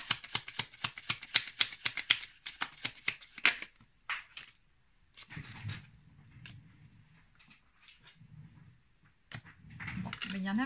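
Tarot cards being shuffled and drawn, opening with a rapid, crisp riffle of a deck held close, then a few separate card flips and slides amid quieter handling.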